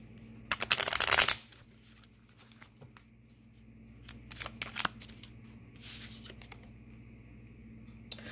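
Tarot cards being shuffled by hand, with a loud riffling burst followed by softer shuffles and card handling against a steady low hum.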